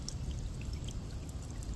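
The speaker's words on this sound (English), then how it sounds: "that fountain just keeps the water moving so that way it doesn't turn stagnant on me or the animals" A small garden fountain keeps water moving in an outdoor animal water dish for squirrels and birds, giving a steady, soft pouring trickle with a low rumble beneath, continuous and fairly faint.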